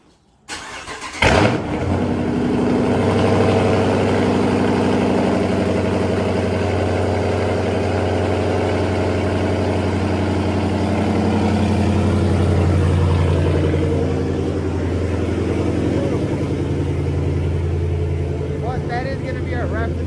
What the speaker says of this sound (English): let's give it a cold start real quick.